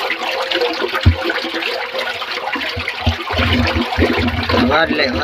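Water rushes steadily through a farm irrigation line, a continuous broadband hiss with a few low thumps and gurgles, close by, with faint voices in the background.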